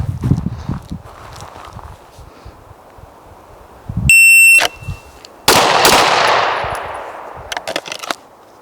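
Smith & Wesson M&P 2.0 pistol firing at a range: a sharp electronic timer beep, then two loud, close gunshots in quick succession, with faint talk around them.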